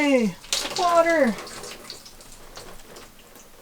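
A newly fitted tap in a camper van starts running, a faint, steady hiss of water that follows a short excited exclamation and continues quietly on its own.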